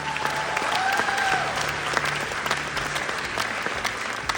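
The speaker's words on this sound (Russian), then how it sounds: "Аплодисменты." Dense audience applause fills a corporate presentation hall, steady and fairly loud from start to finish with no speech over it.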